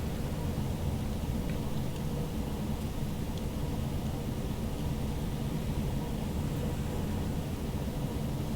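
Steady rain in the Train Sim World video game, a continuous broad hiss over a low rumble as a train drives through wet weather.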